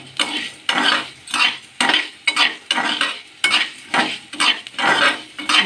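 Coriander seeds stirred in oil over a low flame, sharp repeated scrapes and clinks of a spoon against the pan in a quick regular rhythm, close and loud, with faint frying underneath.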